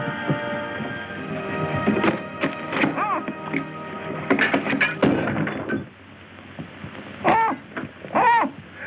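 Bird calls and hoots from a 1930s mystery film soundscape, repeated rising whistled notes mixed with harmonic tones and background score, fairly close and clear, with a brief voice at times.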